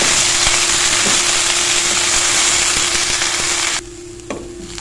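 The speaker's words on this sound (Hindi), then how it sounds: "ये लीजिए कचनार हमारी फ्राई हो गई है बहुत अच्छे से" Kachnar (bauhinia buds) frying in a pan, a loud, dense, steady sizzle with a low hum and occasional scraping taps, cutting off abruptly into quiet near the end.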